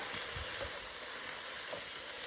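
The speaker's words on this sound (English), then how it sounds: "You want to add your green onions to the mixture. Stir it on up." Green onions stirred into a sizzling frying mixture for a Korean bowl, a steady faint crackle with soft scraping stir sounds.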